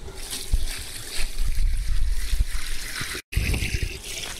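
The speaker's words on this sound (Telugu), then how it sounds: "ఇప్పుడు 10 లీటర్ల నీళ్లు పోసుకోవాలి" Water poured into a large pot packed with five kilograms of vavilaku leaves, a close, splashing, gurgling stream with uneven surges that cuts out briefly near the end before resuming.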